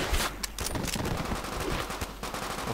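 Rapid, sustained automatic gunfire in the Call of Duty: World at War video game, dense overlapping bursts at close range with continuous battle noise.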